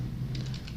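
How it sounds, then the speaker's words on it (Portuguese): A few soft, quick keystrokes on a computer keyboard, quiet and close, clustered in a brief burst over a low steady hum. "E aqui nós vamos digitar"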